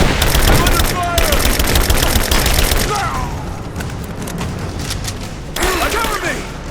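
Heavy automatic gunfire in Rise of the Tomb Raider, dense rapid bursts loud in the first few seconds, easing off, then a renewed volley near the end over a busy combat din.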